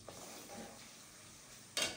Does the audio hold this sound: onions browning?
yes